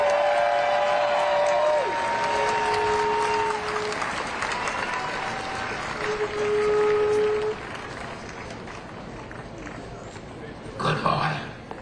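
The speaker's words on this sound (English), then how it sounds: "Let's give a round of applause for Reverend Haggler." A crowd at an anti-Trump protest rally in Washington, D.C. applauds a reverend, and loud clapping mixes with voices and whistling tones before the noise tapers off.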